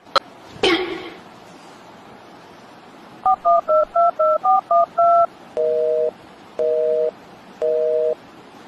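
A phone dials a number with a quick run of touch-tone beeps, then an evenly spaced busy signal sounds three times, close and clear after a sharp knock near the start.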